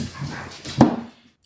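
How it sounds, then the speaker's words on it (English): A dog whimpering in the background, a soft, short whine that rises to one brief sharper yelp before fading into quiet. "I'm sorry if you can hear dog noises in the background"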